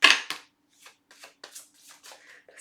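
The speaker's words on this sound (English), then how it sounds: "This deck is so hard to shuffle." A deck of tarot cards is shuffled by hand, close and quiet, in a series of short riffling bursts and soft slaps separated by brief pauses.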